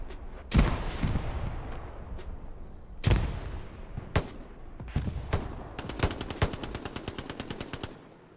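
Several guns in the online shooter Hell Let Loose, five at once on a single player: sharp, loud shots spaced apart, then a fast, dense burst of rapid fire near the end, with no talking.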